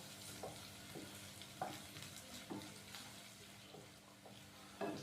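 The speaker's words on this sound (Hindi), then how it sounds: "अदरक और लहसुन के पेस्ट को हल्का सा फ्राई करेंगे, ताकि इसका कच्चापन खत्म हो जाए।" Ginger and garlic paste fries lightly in a pan for a bread roll snack, with a soft steady sizzle and periodic stirring scrapes at a low level and no voices.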